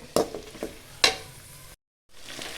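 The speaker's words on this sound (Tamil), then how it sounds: "கருவேப்பிலை, பூண்டு போட்டு நல்லா வதக்கோங்க." Curry leaves and garlic sautéing in a pan, a soft sizzle with a few sharp stirring scrapes and clinks, close and fairly quiet, cutting out briefly near the end.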